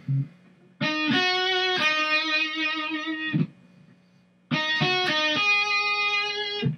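Electric guitar plays two bright sustained riffs with wavering vibrato on the held notes, separated by a brief quiet gap.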